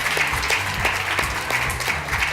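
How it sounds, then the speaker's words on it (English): An audience at a Race + Justice event in Tucson applauds, giving steady, even clapping from many hands that fills the room. "A round of applause for you."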